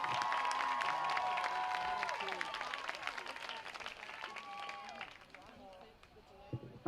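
A crowd applauds for a senior at a high school football game, steady clapping and cheering heard at a distance while an announcer talks over it and the noise slowly dies down.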